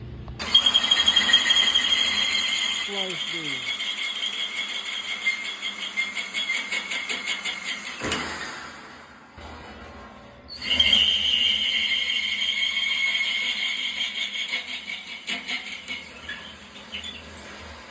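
A power drill whines steadily at high pitch at slow speed as it bores into a steel drum smoker lid, with a short pause midway before the drilling resumes, close and loud.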